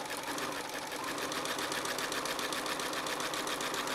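A sewing machine doing free-motion embroidery, stitching a leaf outline onto a fabric postcard with bobbin thread, runs in a steady, fast, even whir that keeps going at an unchanging pace from start to finish.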